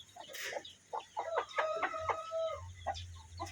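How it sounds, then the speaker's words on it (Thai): Thai Yiar-line gamecock chickens cluck and crow nearby, a series of short clucks followed by a drawn-out crow, with a low hum in the background and no talking. "ยิบมัน เป็นไก่เยียนะครับ"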